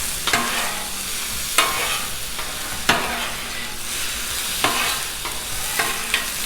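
Vegetables and garlic sizzle loudly on a very hot Blackstone griddle, a continuous close hiss broken by several sharp scraping clacks of a spatula against the steel.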